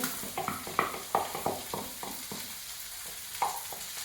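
Okra and carrot frying in a pan as a utensil stirs them, giving repeated scraping strokes over a soft, steady sizzle, close and moderately quiet.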